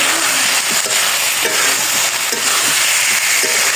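New potatoes fry in a pan with a loud steady sizzle and bubbling hiss, close up, broken by faint scraping stir sounds, with no talking.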